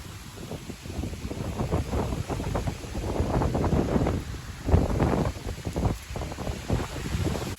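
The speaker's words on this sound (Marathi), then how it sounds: "वारा एवढा चालू आहे" Strong wind buffets the microphone in steady, gusty roars over a broad rushing noise like heavy falling water, with no voices.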